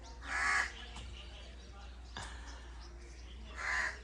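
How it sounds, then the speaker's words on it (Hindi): Two loud crow caws, one near the start and one near the end, with a faint bird call between them over a low steady background hum, heard on a morning in a Punjab village. "इसीलिए कौवा बोल रहा है।"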